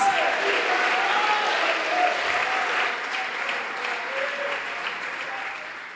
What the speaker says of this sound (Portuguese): Aplauda a presença desse Deus